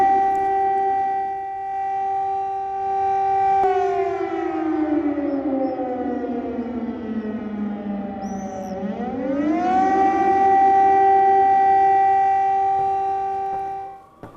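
Air raid sirens wail in Eilat, Israel, a loud steady tone that dips low in pitch and then climbs back up before cutting off, sounding alone.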